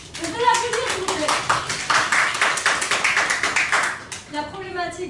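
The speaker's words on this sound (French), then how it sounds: "On peut l'applaudir, s'il vous plaît" A small group in a classroom claps for a student, a short burst of close, distinct handclaps between bits of a teacher's speech at the start and end.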